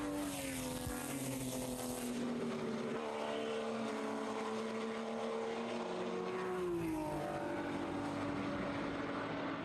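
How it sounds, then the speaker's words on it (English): Race cars, Porsches at a PCA club event at Summit Point, driving through turn 5, a loud continuous engine roar with rising and falling pitch as cars pass and shift, over steady background noise. "a couple other cars going down through turn 5 and going through"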